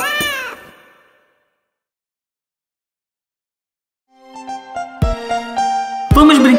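Cartoon kittens meowing in a children's song, a sung meow at the start, then a pause before music comes in with more bright meows over the tune.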